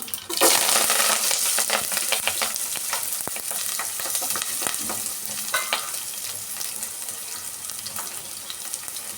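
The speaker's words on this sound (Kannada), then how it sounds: "ಸಾಸಿವೆ ಸಿಡಿದಿದ್ದಾಯಿತು." Mustard seeds splutter in hot oil, a loud dense crackle of rapid pops starting abruptly and holding steady, close by, with no talking.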